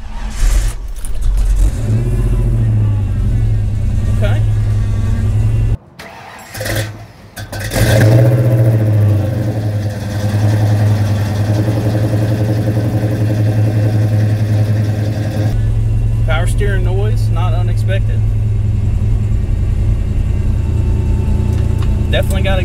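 A Ford Mustang GT with a 5.0 engine and aftermarket exhaust cranks, fires up loudly close by, revs briefly, then settles into a deep, steady rumbling idle that runs throughout.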